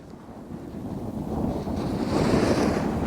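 Gusty wind on a beach during a wave kite-flying session roars across the microphone as a dense low rumble, building slightly in strength toward the end, with no voices.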